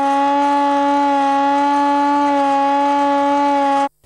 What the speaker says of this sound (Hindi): जहलम में सायरन बजाकर वॉक का एहतमाम किया गया